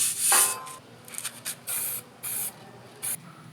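Steel It coating sprayed onto the cage of a 2021 Honda Talon 1000R Fox Live Valve, a series of close, loud hissing aerosol bursts of varying length separated by short pauses, with no talking.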